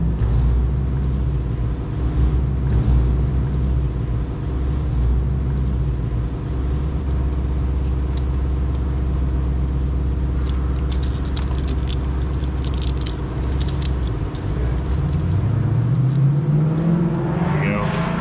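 Jeep Wrangler with a 3.8 engine, carrying a P0300 misfire fault, holds a loud, steady rev near 4,000 RPM on a cold start, then drops back toward idle near the end.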